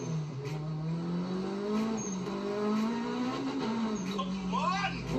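A supercharged K20 engine in a Honda Civic EK9 hums and rises in pitch as it revs under load, with a supercharger whine, heard from inside the car while voices talk over it.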